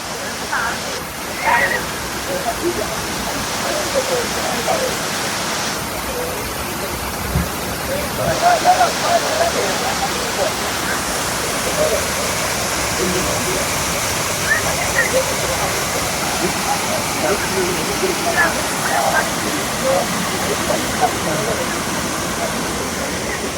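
Continuous loud roar of a waterfall at Kanthalloor, a dense steady rush of falling water heard up close throughout, with people talking faintly beneath it.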